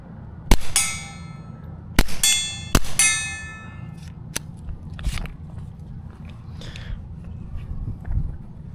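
Suppressed TX22 rounds hitting a steel target at 40 yards, a few sharp, bright metallic pings with brief ringing decays, spaced unevenly over a low outdoor background.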